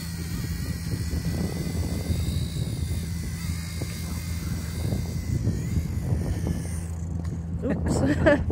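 Blade Nano S2 RC helicopter in flight, its small rotor and motor giving a steady high whine and buzz throughout, fairly close, with a brief clatter near the end.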